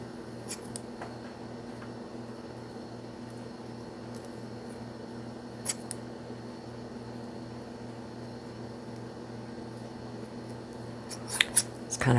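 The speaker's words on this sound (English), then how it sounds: "It's kind of hard to get those little pieces with these big scissors." Big scissors cutting paper for a junk journal cover, a few faint, brief snips spread over a steady quiet room hum, with a louder cluster of cuts near the end.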